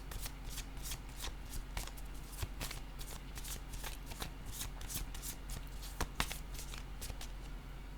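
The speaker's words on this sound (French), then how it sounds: "je vais déposer une autre carte pour les clarifier" Tarot cards are handled, shuffled and laid down on a table in a long run of soft flicks, riffles and light slaps, close and fairly quiet, with no talking.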